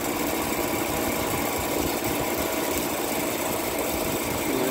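An Emerson Quiet Kool window air conditioner with a loose, rattling fan blade that strikes something as it spins, giving a steady close mechanical whir with a fast, even buzzing clatter throughout.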